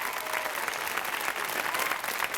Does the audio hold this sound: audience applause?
yes